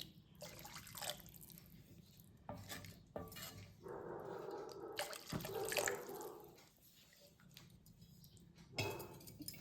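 Water is poured into a simmering pot of thick gravy in a kitchen, giving a soft splashing burst in the middle of the clip amid quieter clinks and drips, with no talking.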